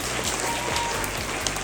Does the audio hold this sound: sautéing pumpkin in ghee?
no